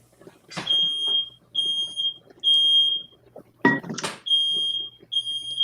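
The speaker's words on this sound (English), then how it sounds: "Fire alarm." A household smoke alarm sounds in a series of loud, piercing beeps with short gaps between them, accompanied by a few bumps and brief noises nearby.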